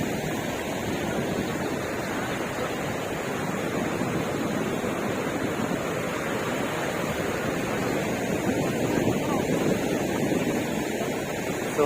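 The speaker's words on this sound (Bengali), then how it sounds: "সমুদ্রের গর্জনটা আমার ভালো লাগে" Steady roar of sea waves breaking on the beach at Kuakata, Bangladesh, a broad continuous wash of surf with faint wind, no voices, holding at an even level throughout.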